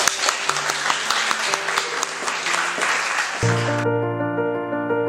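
An audience applauds a presenting group with brisk, scattered clapping for a few seconds before it gives way to sustained musical tones.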